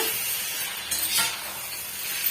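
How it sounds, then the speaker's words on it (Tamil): Chicken pieces sautéing in a pan for chicken gravy, a steady soft sizzle with faint stirring scrapes throughout, quiet and close, with no talking. "எடுத்துட்டு ஒரு அஞ்சு நிமிஷம் வந்து வதக்கி விட்டுக்கலாங்க"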